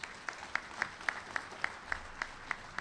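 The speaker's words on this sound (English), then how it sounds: "Can we applaud Paul?" Applause rises at a Jamaican college graduation ceremony, faint and distant, with one person's claps heard as evenly spaced sharp beats about every quarter second over a soft room hush.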